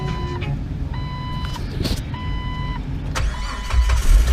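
A Jeep engine cranks and starts up after lug-nut maintenance, rough mid-range engine noise rising and settling, with repeating electronic warning beeps chiming at intervals and a louder surge near the end.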